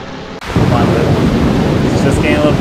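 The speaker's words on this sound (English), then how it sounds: "The storm's loud, but I think storms are supposed to be loud" A thunderstorm with rain from the horror game Lost in Vivo swells after a brief quiet moment into a loud, steady roar of rumbling thunder and downpour.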